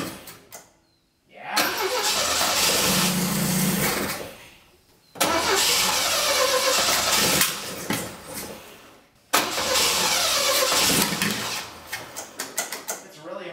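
A 20-year-dormant Saab Sonett engine cranks and sputters to life in three rough bursts separated by pauses, ending in uneven coughing firing as it struggles to keep running, heard close up.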